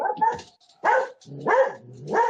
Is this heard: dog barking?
yes